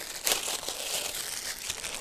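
Plastic packaging on a Tonor T90 RGB boom mic arm box being cut open, a short burst of close crinkling and tearing with a sharp rustle near the start, then continued crackly handling.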